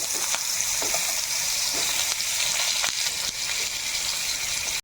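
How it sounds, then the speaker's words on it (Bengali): Boiled bamboo shoots frying in hot oil in a kadai, a steady loud sizzle with occasional crackles and soft stirring clicks throughout, no voices. "বাঁশকুড়ুল আগে একটু ভেজে নিতে হবে"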